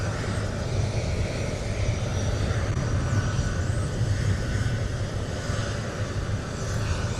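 Airplane engine at SXM airport on Sint Maarten by Maho Beach, a steady loud droning roar that holds without break, with faint higher whines above and no voices.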